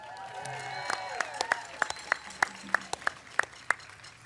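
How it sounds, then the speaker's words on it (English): A crowd at an outdoor Clean Power Plan rally applauds thinly, a few sharp claps spaced in a steady rhythm over a background of scattered voices and murmur. "So let's give them a round of applause."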